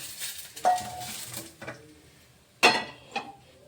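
Fried green chilies being lifted out of a pan: a few distinct metallic clinks and scrapes of a utensil against the pan, spaced apart over a faint background sizzle.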